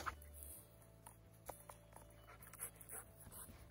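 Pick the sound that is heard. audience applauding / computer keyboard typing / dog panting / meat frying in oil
dog panting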